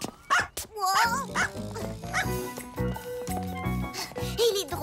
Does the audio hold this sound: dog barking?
yes